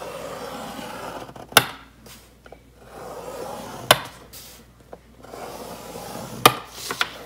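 A scoring tool drags along paper on a scoring board for a stitched journal cover, making soft scraping rubs broken by three sharp taps spaced a couple of seconds apart, close and with no talk.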